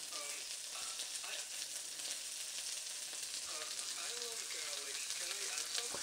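Chicken sears and chars in a hot pan for a Chinese-takeaway-style chicken and mushroom dish, a dense steady sizzle with crackling pops, close and continuous, while faint voices murmur underneath.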